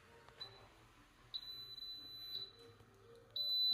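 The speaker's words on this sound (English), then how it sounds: "That beeping sound alerts me that cooking is done." An Instant Pot Pro pressure cooker signals cooking is done: a high electronic beep sounds several times at irregular intervals, growing louder, with the last tone held longer over faint room noise.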